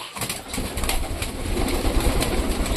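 Domestic pigeons kept indoors, soft cooing and rustling with brief wing flaps against a dense, close background of bird activity.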